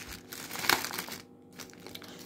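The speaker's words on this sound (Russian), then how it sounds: "Вот, ставим в пакет." A plastic bag crinkles and rustles close by as hydrangea cuttings are placed inside it, with soft irregular crackles, one louder crunch, and a brief pause before the rustling resumes.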